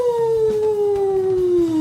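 A human voice imitates a werehog's howl, one sustained, slowly falling tone held loudly for about two seconds with no other sound.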